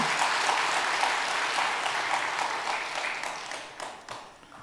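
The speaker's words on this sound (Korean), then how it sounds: "여기서 박수 쳐야 돼." A church congregation applauds during a sermon on the Korean War, steady broadband clapping from many hands that fills the room, then thins and fades toward the end, with a few louder individual claps standing out.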